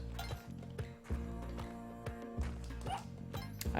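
Dog barking in Spelunky 2, a handful of short bark-like hits spaced irregularly over steady game music, fairly faint and tucked into the mix.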